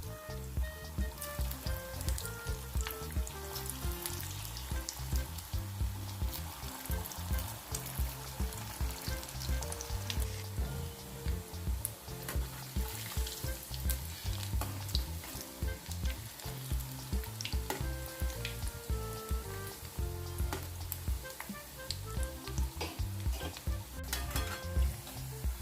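Farali patties for a fasting-day recipe frying in hot oil, a steady dense sizzle that carries on unbroken for the whole stretch, close and fairly loud, with no one talking.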